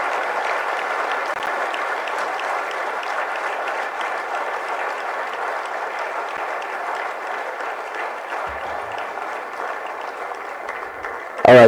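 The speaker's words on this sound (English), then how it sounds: "Can we have another round of applause again, please?" A large crowd applauds a political speech at an outdoor rally in Enugu, Nigeria, with steady, distant-sounding clapping holding for more than ten seconds before a brief louder sound cuts it off at the end.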